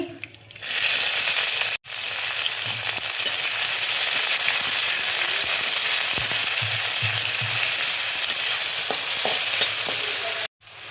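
Curry leaves and chopped onion hitting hot oil, producing a loud, continuous close-up sizzle that starts abruptly, carries on with occasional stirring scrapes, and cuts off near the end.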